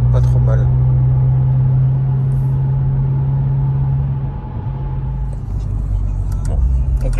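A car cruises along a motorway on a long road trip, its low engine and road rumble steady and close from inside the cabin, with a few faint clicks and rattles.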